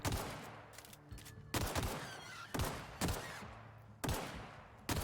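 Gunfire in the video game The Outer Worlds comes as about five loud bursts of shots a second apart, each with a rolling echoing tail, with no voices.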